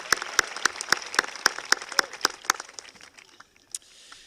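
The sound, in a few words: audience applause at graduation ceremony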